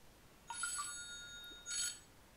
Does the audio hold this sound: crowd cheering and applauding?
no